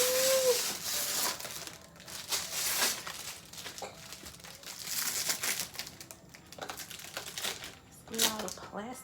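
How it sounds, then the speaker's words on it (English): Crinkly plastic wrapping being peeled and pulled off a new Cricut Explorer Air 2 cutting machine, a run of close, uneven rustling and crackling bursts with someone talking over parts of it. "Get all the plastic off."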